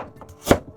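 Single knife stroke slicing half a carrot into thin slices, a crisp chop against the cutting board, close and alone.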